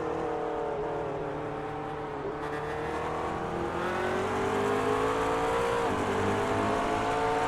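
Onboard race car engine from the iRacing sim during a Blancpain Endurance Series race, a steady loud whine that dips briefly and then climbs again as the driver gets back on the power out of a corner, with no talking.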